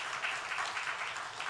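A church congregation at a Korean Sunday worship service applauds steadily, a dense, even wash of clapping that lasts the whole short moment.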